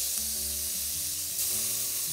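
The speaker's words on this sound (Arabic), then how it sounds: "دي جاهزه عشان ننزل اللحمه فيها" Beef for shawarma hits a hot pan and sizzles, a steady, close frying hiss that holds loud throughout with no talking.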